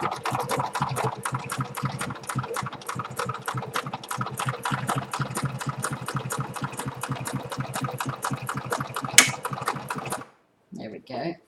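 A sewing machine runs a zigzag stitch on paper journal embellishments, a fast, even mechanical chatter of needle strokes lasting about ten seconds before it stops, followed by a few brief soft handling sounds.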